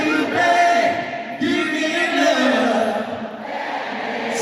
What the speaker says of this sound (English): Crowd wants to sing it.